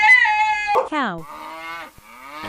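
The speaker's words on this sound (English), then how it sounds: "Cow." A cow moos in a drawn-out, harmonic low, heard up close and loud. A shorter honk-like call interrupts partway through, and the mooing then carries on steadily to the end.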